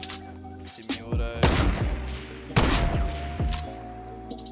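A semi-automatic sniper rifle firing in the Fortnite video game, with heavy booming shots that decay into long echoing tails and a softer mechanical clack between them, close and loud.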